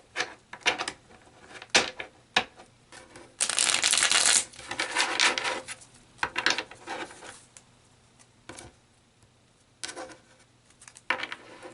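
Tarot cards being shuffled and drawn from a deck: bursts of riffling and flicking close up, one long dense shuffle in the middle, then separate snaps and slides of single cards with quiet pauses between.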